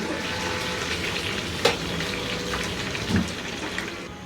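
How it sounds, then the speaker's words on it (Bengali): Chicken pieces fry in oil until browned, giving a steady bubbling sizzle like light rain, with a couple of brief clinks or spatula knocks, close and moderately loud, no talking. "মুরগিগুলো ভালো মতো ভেজে নিলাম বাদামি বাদামি করে"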